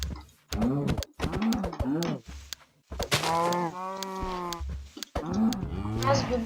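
Cows in Minecraft moo repeatedly, several loud, drawn-out bovine calls in quick succession with brief gaps, one long sustained moo in the middle, close and clear with no talking.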